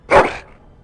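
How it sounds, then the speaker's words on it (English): A dog in the Dragon Age: Origins video game gives a single loud, close bark that drops off quickly into quiet. "That is a wonderful dog."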